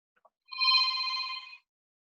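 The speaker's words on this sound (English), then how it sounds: "That's my phone now." A telephone rings once in a quiet room, a steady electronic trill lasting about a second, loud and close with no talk over it.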